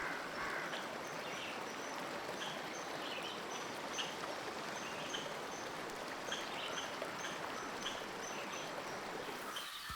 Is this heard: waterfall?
yes